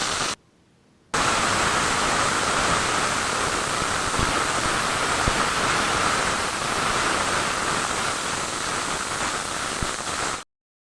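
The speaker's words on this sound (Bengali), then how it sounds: "বেটে রাখা সেই মশলাটা এর মধ্যে দিয়ে ভালো করে এটাকে ভাজতে হবে" Ground mustard spice paste frying in a pan for shorshe ilish, the Bengali hilsa-in-mustard dish: a loud, steady, broadband sizzling hiss that breaks off briefly near the start, then continues evenly without any voices.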